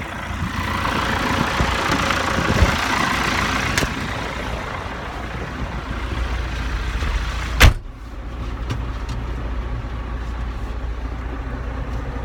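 Steady engine drone from a tractor on a field ploughing ride, running continuously and fairly loud, with a sharp clunk or door-like bang partway through.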